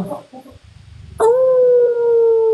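Dogs howling indoors at night, a sustained loud wavering howl rising abruptly after a brief moment of quieter background noise and faint talk.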